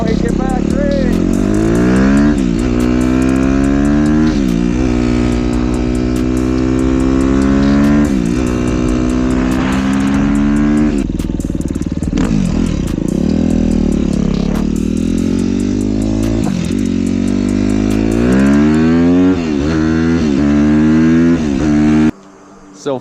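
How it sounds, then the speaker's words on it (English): A dirt bike rides past on a road, its engine loud and close, rising and falling through gear changes with wavering revs, while a voice speaks over it. "No, it's Jerry on his dirt bike."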